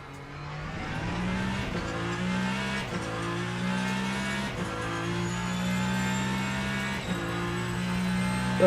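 A Porsche race car engine from Le Mans Ultimate drones steadily at high revs, with regular brief dips as gears shift, then a faint tire squeal over a sustained roaring whine.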